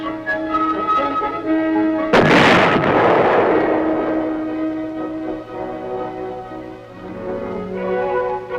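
A tank gun fires once on a test range at the Aberdeen Proving Grounds, a sudden heavy boom that rolls out and decays over several seconds above a steady background hum.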